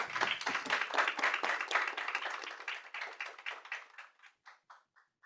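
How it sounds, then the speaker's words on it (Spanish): Audience applause at a TechSprint4Transparency results and winners event: a round of brisk clapping that starts fairly full, then thins out to a few scattered claps before fading, with no talk over it. "Un aplauso, por favor."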